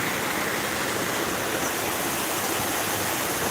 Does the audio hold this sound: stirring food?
no